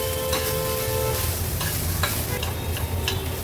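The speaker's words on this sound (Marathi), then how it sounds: "गॅसची फ्लेम लो ठेवूनच हा पनीर फक्त परतून घ्यायचा आहे." Paneer sautéed in a pan over a low gas flame, a steady soft sizzle with occasional scraping stirs throughout, close and continuous with no talk.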